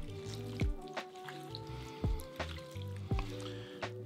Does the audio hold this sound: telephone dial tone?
no